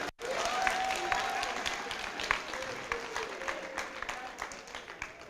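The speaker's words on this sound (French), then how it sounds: "On l'applaudit." An audience breaks into steady, sustained applause, dense and fairly loud clapping from a full room that tapers slightly over several seconds, with no voices over it.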